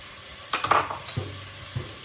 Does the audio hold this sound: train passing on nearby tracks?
no